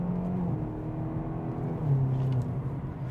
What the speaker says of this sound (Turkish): biraz gazladığımda nasıl ses çıktığını göstereyim size